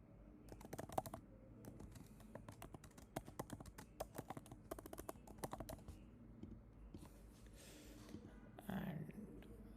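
Computer keyboard typing at a desk while setting up a quiz flow in a WhatsApp flow builder, quick irregular clusters of key clicks running steadily, fairly close but quiet, with a short rustle near the end.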